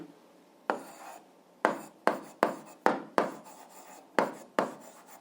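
A pen writes by hand on paper while an algebra exercise is worked out: several sharp, short scratching strokes in an irregular rhythm, close and fairly quiet, with no talking.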